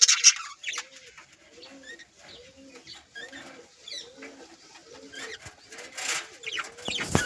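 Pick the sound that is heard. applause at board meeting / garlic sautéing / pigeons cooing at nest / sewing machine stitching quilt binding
pigeons cooing at nest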